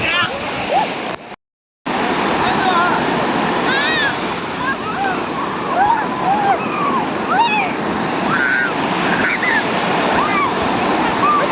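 Continuous roar of sea waves washing in, with faint chirping birds scattered over the surf and a brief dropout near the start.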